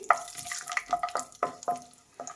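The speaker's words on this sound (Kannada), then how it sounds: "ಗೋಡಂಬಿ ಒಂದು ಸ್ವಲ್ಪ ಫ್ರೈ ಮಾಡಿ" Cashews frying in hot oil in a pan, heard as a soft, close sizzle broken by quick clinks and scrapes of a stirring spoon, with no voices.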